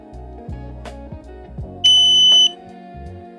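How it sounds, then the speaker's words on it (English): A folding electric wheelchair powers on with one loud, sharp electronic beep lasting about half a second, standing out over faint background hum and low rumble outdoors on grass. "it beeps really loud when you turn it on"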